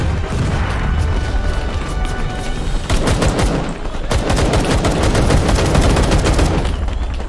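Machine gun fire in the Vietnam War video game Call To Arms, in a Battle of Ia Drang Valley scenario: loud, dense, rapid bursts of shots and blasts hammer on almost without pause, growing heavier after the first few seconds.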